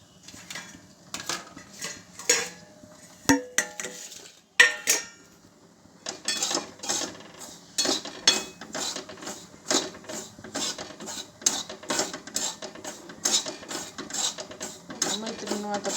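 Semolina (rava) is stirred and roasted in a pan for upma, a spoon repeatedly scraping and clinking against the metal in a quick, irregular rhythm, close up with a soft dry rustle beneath.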